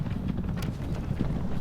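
Horses galloping in Rome Total War during a Parthia vs Macedon battle with horse archers: a dense, continuous rumble of many hooves under faint battle noise, steady and fairly loud throughout.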